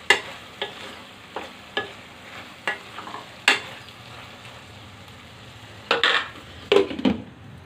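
Methi and broad bean curry stirred in a pan over a low flame, irregular scraping strokes of a spoon against the pan over a soft continuous simmering sizzle, close, with no talking.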